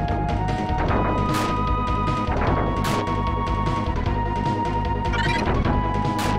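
Heavy crashing impacts from enemy attacks in the retro video game Arcana, played over continuous synthesized game music, with repeated loud hits and smashes spread across the stretch.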